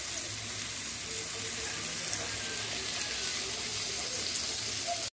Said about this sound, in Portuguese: A batata já começou a ferver. Aí eu vou deixar ela fritar aqui